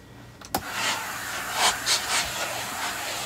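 A new steam iron hisses in short bursts while pressing a quilt sandwich, following a sharp knock, with soft rubbing between the puffs of steam.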